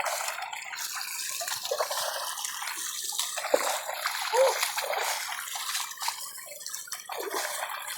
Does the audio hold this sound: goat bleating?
no